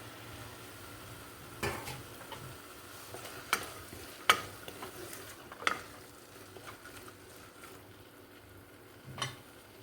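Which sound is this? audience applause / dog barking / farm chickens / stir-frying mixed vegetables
stir-frying mixed vegetables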